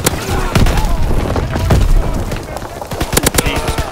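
Anti-aircraft flak guns in Call of Duty WWII fire rapid, heavy bursts of booming shots that crowd together into a dense, loud barrage, with sharper cracks standing out toward the end.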